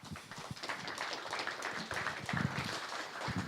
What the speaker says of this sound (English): Let's give a round of applause to Naval.